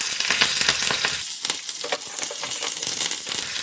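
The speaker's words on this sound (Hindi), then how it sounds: "जीरे को क्रैकल होने देंगे।" Cumin seeds, chopped dried red chilies, split green chilies and curry leaves crackle and sizzle in hot oil for a tadka, a loud close continuous fry with sharp popping bursts and no talking.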